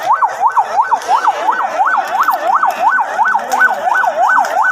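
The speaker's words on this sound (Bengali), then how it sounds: "এই যে সামনের দিক দিয়ে অ্যাম্বুলেন্স আসতেছে" An ambulance siren on a road wails in a fast, steady up-and-down cycle, loud and close, repeating about a dozen times, with faint traffic noise underneath.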